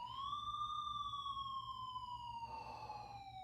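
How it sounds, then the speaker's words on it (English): Police siren outside, a steady wailing tone sweeping slowly downward, moderately faint and distant, with some extra rumbling noise near the end. "Oh, I hear the sirens outside."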